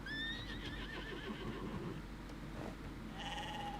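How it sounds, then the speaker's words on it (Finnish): A wild Finnish horse in Star Stable Online gives a loud, clear, quavering whinny, followed by a few soft hoof clops and a second shorter neigh at the end, close and alone. "Villi Suomen hevonen."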